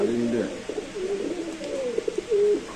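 Pigeons coo in low, throaty bursts at a busy pigeon market, close and repeated, mixed with the bustle and chatter of traders nearby.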